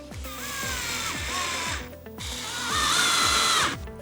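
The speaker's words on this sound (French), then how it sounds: "La première étape, ce sera de positionner cette pièce-là au niveau des pré-trous et la visser" A power screwdriver drives screws to fix a fitting inside a kitchen wall cabinet, two close, sustained whirring runs with a short pause between, the pitch shifting as each screw tightens; no talking.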